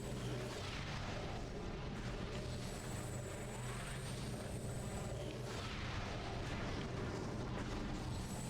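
A turret fires in Metroid Prime on Tallon IV. Continuous rumbling booms and bursts roll on amid dense game noise, with sweeping tonal effects layered on top.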